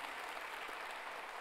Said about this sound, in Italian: vorrei dirle grazie con l'applauso